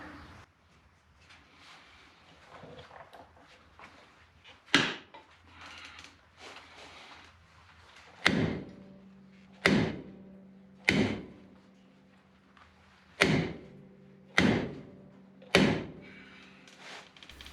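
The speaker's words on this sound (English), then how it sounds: "This is a rock hammer." Heavy rock hammer blows on a 1986 Ford Ranger brake drum ring out one at a time, sharp metallic strikes with a ringing tail, falling in an uneven rhythm after a quiet stretch.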